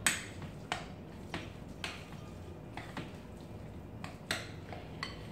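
A spoon clinks and taps against a bowl while broth powder is stirred in, giving soft, irregular metallic ticks over a quiet room background.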